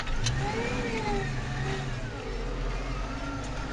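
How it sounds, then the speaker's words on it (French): A Massey Ferguson 6465 tractor revs up while ploughing with a four-furrow plough, a steady loud close engine drone rising in pitch as it accelerates to turn. "J'accélère parce que pour que la direction soit plus légère."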